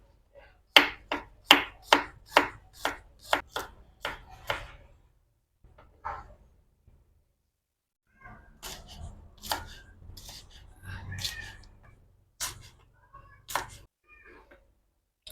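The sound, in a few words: slicing ingredients, onions, with a knife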